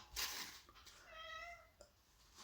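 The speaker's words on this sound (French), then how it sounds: "Ça, c'est mon chat Simba." A domestic cat meows, a drawn-out tonal call rising and falling, heard close but fairly quiet, with a few soft rustles and knocks around it and no speech.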